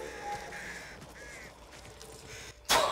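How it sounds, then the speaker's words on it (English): Crows cawing in the video game Back 4 Blood, several harsh caws in a row at moderate distance, ending in a sudden louder flapping burst. "Y'all be careful with them goddamn birds."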